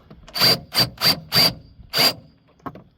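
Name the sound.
removing the last bolt of a VW Jetta transmission mount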